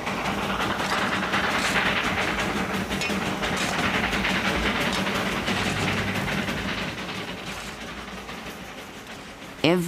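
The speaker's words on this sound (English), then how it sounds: "18 little locomotives run back and forth on the Darjeeling Himalayan line." A small locomotive over a century old on the Darjeeling Himalayan line, with steady rumbling and clickety-clack of the train running along the track, fading slightly toward the end, with talk over it.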